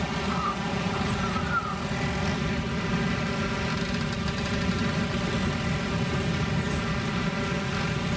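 Bomber engines in a flight-sim game drone steadily in a flight over the Channel, a continuous low propeller hum that stays even and moderately loud for the whole stretch, with no talk.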